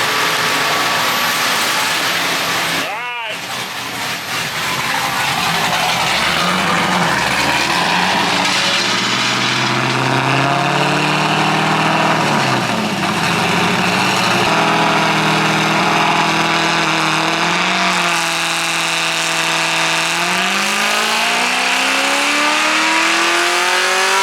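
A nitrous-fed, LS-swapped BMW E36 roars through a dyno pull, loud and continuous, with a sharp pop near the start, then the engine note sweeping steadily up through the revs and easing back down.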